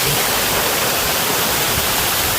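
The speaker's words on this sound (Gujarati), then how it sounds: "આ ધોધ પડે રહેવા છે" A waterfall pours in a dense, loud, unbroken rush of broadband roar, heard up close and steady from start to finish with no voices.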